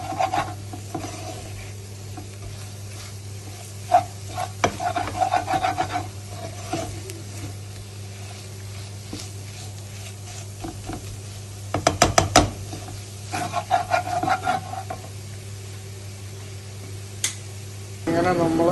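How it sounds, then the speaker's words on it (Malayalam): Onions stirred and fried in a pan for a Kerala-style chicken curry, with intermittent scraping and rubbing strokes of a spoon against the pan over a steady low hum, including a quick burst of clatter midway; no speech. "പിന്നെ എല്ലായിടം കൂടി ഒന്ന് മിക്സ് ചെയ്ത് നമ്മളൊന്ന് ചെറുതായിട്ടൊന്ന് മൂപ്പിച്ചെടുക്കണം."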